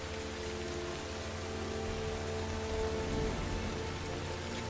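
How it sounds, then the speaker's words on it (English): Heavy rain pours steadily in a war drama, a dense, even hiss of downpour with no gaps that runs loud and unbroken for several seconds before cutting off abruptly. "imagine it just raining like this"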